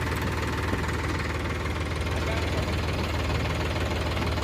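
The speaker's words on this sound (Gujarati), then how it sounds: "ટ્રેક્ટર છે સોનાલિકા." A Sonalika tractor engine runs continuously with a dense, even mechanical drone and fast knocking throb, close and steady from start to finish with no voices.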